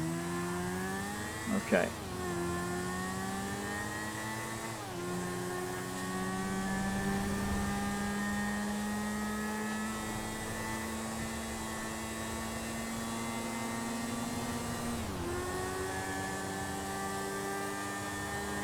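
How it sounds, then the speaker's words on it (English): A PCJ motorcycle engine in a video game drones steadily for the whole stretch, its pitch rising and shifting with gear changes, while a voice speaks briefly near the start. "Here's the PCJ. It should give me a line to get back to my other vehicles."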